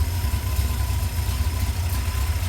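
A 1964 Comet car engine idles steadily with a low, even rumble and a faint mechanical hum, continuous and close, with no voices.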